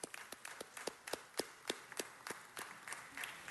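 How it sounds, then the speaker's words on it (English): Sparse hand claps from a city council meeting audience, spaced fairly evenly about three per second, quiet and somewhat distant rather than a full burst of applause. "let's give a big round of applause to the 74th Nisei Week Queen and her court"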